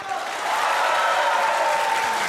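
A studio audience breaks into steady, dense applause for a cat named Mastan. The clapping swells within the first half second and then holds at full strength, loud and sustained, with a faint murmur of crowd noise.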